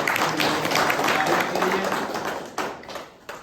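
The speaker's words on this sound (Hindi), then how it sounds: "एक बार जोरदार तालियां।" Audience applause at a political party review meeting of Apna Dal (S) in Sonbhadra, a dense wash of clapping that stays loud through most of the span and thins toward the end.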